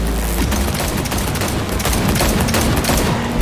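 Loud, dense bursts of automatic gunfire rattle without pause during a car chase shootout in the video game Cyberpunk 2077. The shots pile into a continuous fusillade with no talk over them.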